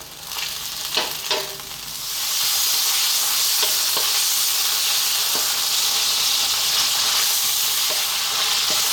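Ginger and garlic frying in a pan for spicy beef adobo, a few light pops and crackles at first, then a steady loud sizzle that settles into a continuous hiss with occasional stirring clicks.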